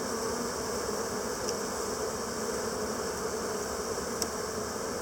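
Dense, steady drone of a honey bee swarm of thousands around a tree, a continuous close buzzing with occasional individual bees zipping past the microphone, with no speech.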